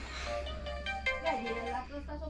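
A mobile phone ringtone plays as a bright, repeating melodic tone over steady background noise, sounding fairly close at moderate volume.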